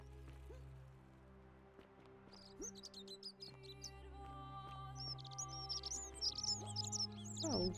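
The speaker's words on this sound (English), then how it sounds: "It's a loud ass bird." In the video game The Forgotten City, a loud bird chirps and trills in repeated bright bursts over a steady low ambient hum, growing busier toward the end.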